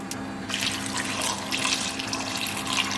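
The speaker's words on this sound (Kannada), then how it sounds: "ಇದಕ್ಕೆ ಒಂದು 2 ಕಪ್ನಷ್ಟು ನೀರು ಹಾಕೊಂಡಿದ್ದೀನಿ" Water pours steadily from a tap into a cooking pot holding chopped bottle gourd, tomatoes and lentils for dal, a continuous close splashing rush with no talking.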